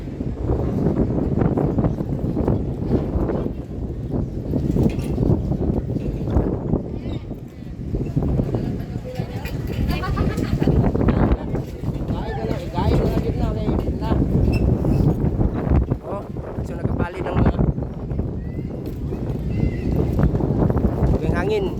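Strong wind buffets the microphone throughout with a constant low roar and gusts, while people talk over it at a street parade in Davao.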